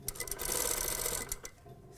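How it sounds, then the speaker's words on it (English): A sewing machine stitching toile fabric, a fast whirring run of needle strokes that starts, holds steady, then slows and stops, close and clear without talk. "You control the speed and which way you sew as well."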